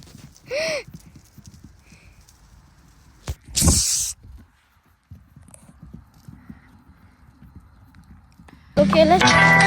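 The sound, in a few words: horse's hooves walking to its stall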